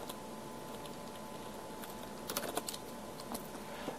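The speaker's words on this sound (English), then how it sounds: "Let's type in leather texture." Computer keyboard typing in short bursts, a quick run of clicky keystrokes near the end after a quiet stretch, close and fairly soft with no talking.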